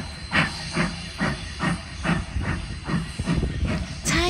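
A steam locomotive, an old heritage engine on a Maori New Year lantern excursion in New Zealand, hisses and chuffs in a regular rhythm of about ten close puffs, with a sharp burst of steam at the end.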